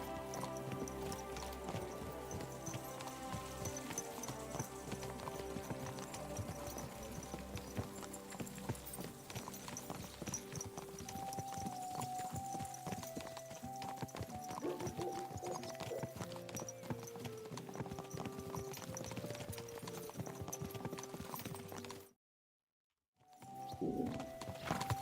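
Horse hooves clip-clop steadily and continuously in the video game Kingdom Come: Deliverance II, with a short drop to silence near the end before the hoofbeats return.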